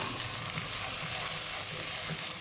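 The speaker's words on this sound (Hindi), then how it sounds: "तो ये मैं थोड़ा सा मसाला भून रहे हैं" Masala spices frying in a pan for an egg keema paratha, giving a steady broadband sizzle that runs unbroken and close throughout, with no voices.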